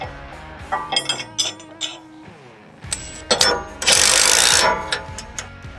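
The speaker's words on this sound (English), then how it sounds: "Put your washer and nut on, do them up tight." Washer and nut being tightened onto a metal motorcycle rack bracket, with scattered metallic clinks and rattles, a short ratcheting whir and a burst of scraping hiss, close up and without talk.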